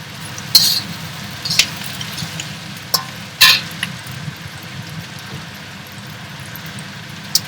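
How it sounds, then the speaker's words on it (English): Capsicum and spring onion stir-fried in a wok make a soft, continuous sizzle, broken by a few sharp scrapes and clanks of the utensil against the pan. "We'll stir fry the capsicum for about 30 seconds. And then I'll put the spring onion into it."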